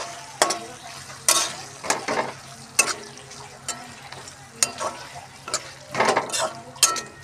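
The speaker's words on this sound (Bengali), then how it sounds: "আমি ওর মধ্যে দিয়ে দিচ্ছি ভেজে রাখা ডিমগুলো। ভালো করে এবারে মশলার সাথে মিশিয়ে নেব।" Fried eggs are stirred into cooked spice masala in a pan for egg posto, with irregular scraping clinks of a spoon against the pan over a low sizzle, close by.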